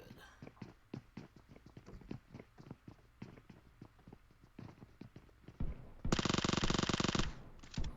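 Video game gunfire on the Miramar map: scattered sharp single shots crack repeatedly, then a dense sustained burst of rapid fire near the end, with faint commentary underneath.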